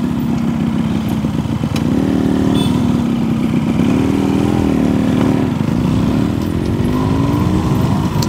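A Yamaha RX100 and a KTM Duke 200 motorcycle launch from rest, their engines revving loud and near, with rising and falling pitch sweeps as the throttle opens.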